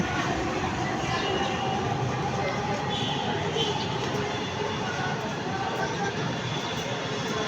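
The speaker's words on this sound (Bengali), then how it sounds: "মেটোরেল রেল চলে আসছে" A metro rail train arrives at an elevated station with a constant broad rumble and rushing roar. The noise is loud and steady throughout, with a faint high whine above it.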